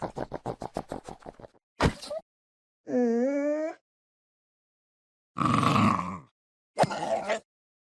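Puglin wolves from a Minecraft snapshot make a fast rattling run of grunts, then a sharp bark, a wavering growly whine, a rough breathy snarl and a final short bark, each loud and close with silent gaps and no talk.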